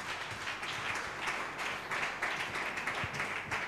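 Congregation clapping hands during a Sunday morning church service, a steady dense patter of applause-like claps filling the room at moderate level, continuous throughout with no clear voices.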